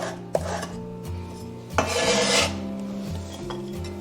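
A knife slices a small piece of red sweet pepper into strips on a board, making a few sharp cuts and rasping strokes over steady background music.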